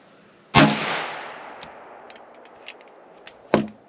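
Two sharp gunshots from a 10mm pistol firing Underwood 155gr XTP jacketed hollow point ammunition, spaced about three seconds apart. The first blast has a long decaying echo, and small clicks and clatter fall in between.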